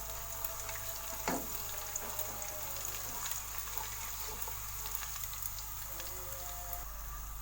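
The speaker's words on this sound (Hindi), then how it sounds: "इनको भी स्पून से स्टीयर करेंगे।" Garlic cloves sizzle steadily in hot oil in a pan, a constant frying hiss with a spoon occasionally scraping and stirring through them, close and continuous without talk.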